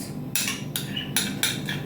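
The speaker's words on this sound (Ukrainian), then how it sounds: "І нам треба це все гарненько перемішати." Metal spoon scraping and clinking against a bowl in a few bursts as thick mayonnaise and sprat pâté are mixed, close up with a quiet background.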